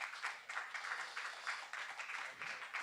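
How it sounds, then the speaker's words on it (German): Audience applause after a presentation at an art and technology show, a dense steady wash of clapping from a crowd that swells and pulses throughout. "Applaus für mal die Vorstellung"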